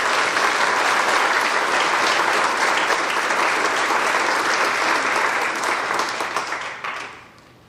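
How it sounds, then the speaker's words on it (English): An awards night audience applauds the recipients with a dense, loud wash of clapping that holds steady for several seconds before tapering off and fading out at the end. "please join me in a round of applause as we congratulate these recipients of the awards"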